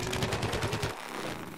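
Fast automatic gunfire from the Plants vs Zombies Garden Warfare video game, a rattling burst of evenly spaced shots that cuts off abruptly into quiet background noise.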